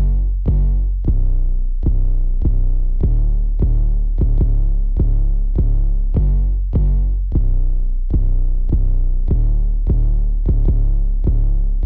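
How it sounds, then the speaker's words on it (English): An 808 bass drum pattern programmed in FL Studio for a type beat: deep booming kicks repeat in a steady, syncopated rhythm, loud and isolated, with long decaying low tails and no voices. "this is what the 808 pattern sounds like"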